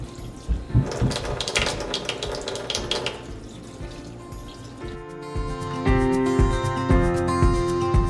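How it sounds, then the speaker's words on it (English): Water from a sink hose on low pours over potted succulents, a splashing, trickling stream with scattered drips and knocks, growing steadier and louder toward the end. "I just turn the sink on low and use my sink hose, and I just go over it and get it watered in nice"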